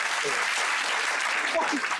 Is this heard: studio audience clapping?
yes